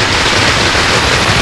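Firecrackers bursting in a comedy film scene, a loud dense crackle that runs without pause for a short burst, close and harsh, with no voices over it.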